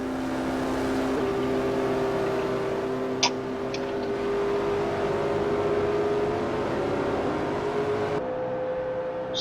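NASCAR race car engines in Forza Motorsport 4 drone at a steady, sustained pitch, a dense field of cars in a race with one brief click partway through and a sudden drop near the end.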